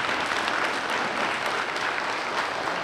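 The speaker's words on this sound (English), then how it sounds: "give him a great, big round of applause" A school audience at a December DARE program ceremony breaks into steady, loud applause, a dense wash of clapping that holds evenly throughout with no pauses.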